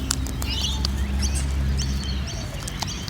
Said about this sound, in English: These guys are usually quite timid parrots